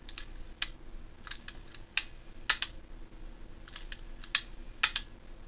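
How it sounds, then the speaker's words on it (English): An Aiwa HS-F07 cassette player running on play with no tape inserted, giving off irregular sharp, faint clicks in quick bursts against a quiet background. "I don't know what that clicking is there. Maybe it's because the tape is not in."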